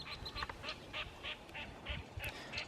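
Mallard ducks quack in a repeated series of short, evenly spaced calls, moderately distant and fairly faint outdoors, with no talk.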